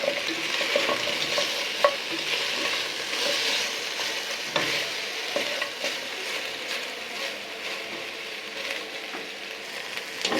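Chicken pieces fry in a pan for a spicy curry, a continuous close sizzle broken by frequent scraping stirs and small clicks of the spatula, with no voices.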